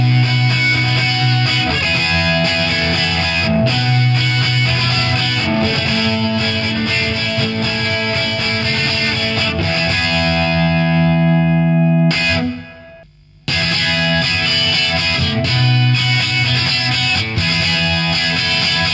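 Electric guitar playing through a Marshall DSL amp on its clean channel pushed hard with a micro amp boost, a loud sustained strummed tone with effects coloring, briefly cutting out near the end before resuming.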